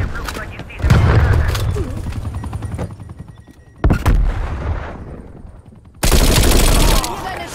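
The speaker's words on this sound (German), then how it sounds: "Granate ist raus." Grenade blast and gunfire in Call of Duty Black Ops Cold War multiplayer: a series of loud booming impacts and rapid shots in separate bursts, with a voice talking between them.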